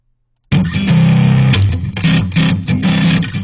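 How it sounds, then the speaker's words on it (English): An electric guitar plays through a Classic British Stack amp simulation with distortion. A thick, saturated chord bursts in after a short silence and rings loud, followed by a few more heavily distorted strums. "Maybe I'll switch this to Classic British Stack, and I'll play that."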